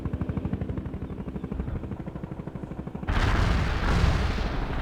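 An artillery strike lands in the World in Conflict video game: a fast, rhythmic thudding pulse gives way to a heavy, sustained rumbling of explosions that stays loud to the end.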